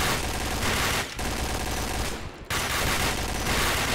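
Loud, rapid bursts of gunfire in a Counter-Strike-style bomb-defuse match, dense automatic shooting broken by two short pauses, close and harsh.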